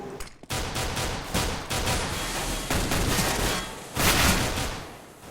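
Rapid gunfire during a competitive Counter-Strike LAN qualifier match, with dense bursts of rifle shots rattling almost continuously, a brief gap near the start and a loud fresh volley toward the end.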